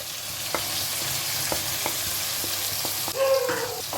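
Ground cumin, red chilli, Kashmiri chilli and turmeric powders sizzle in a pan as water is added, giving a steady hiss punctuated by a few soft stirring taps, then a sharper burst of bubbling near the end.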